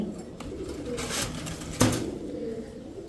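Domestic white grizzle racer pigeons coo softly in a loft, with low murmuring calls, a brief flutter of wings and a sharper burst near the middle over quiet background.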